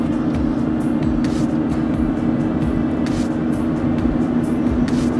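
A junkyard Chevrolet TrailBlazer cruises in overdrive at about 1500 RPM, with a steady, loud low engine drone and road hum throughout, plus a few faint ticks and clicks inside the cabin, with no talk.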